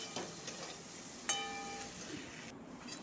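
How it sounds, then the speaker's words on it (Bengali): Shrimp sautéing in a pan for a Bengali kochur loti (taro stolon) dish, giving a steady low frying sizzle with faint stirring and a brief metallic clink of utensil against pan, no talking. "চিংড়ি মাছগুলো দিয়ে দিলাম। দিয়ে আরও খানিকক্ষণ কষিয়ে নেব।"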